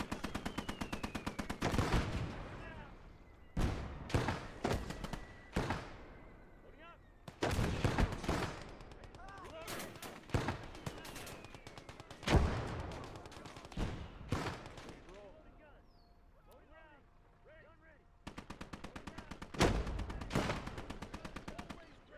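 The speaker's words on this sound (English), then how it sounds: "I'm gonna take out that machine gun." Gunfire in a war video game set in an alternate-history USA versus Soviet conflict: repeated loud bursts of machine-gun fire, some long and some short, separated by quieter gaps, with a voice at times in between.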